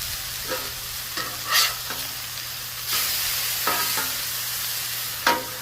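Burger patties fry on a VEVOR 22-inch tabletop griddle with a constant close sizzle, broken by a few sharp scraping spatula strokes against the steel surface.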